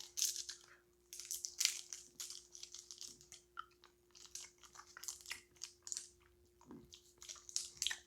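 Hard mango candy from India being bitten and crunched, a steady run of crisp crunches and chomps heard close up over about eight seconds with short pauses, no talking.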